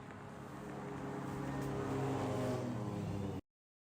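Race cars, including a Toyota Supra, rev and pull away down pit lane during an eight-hour endurance race at Thunderhill, a rising engine roar that swells and then cuts off abruptly.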